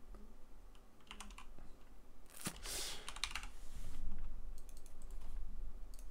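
Computer keyboard typing in quick bursts of close, crisp clicks, with a dense flurry in the middle and scattered lighter taps around it, no voice present.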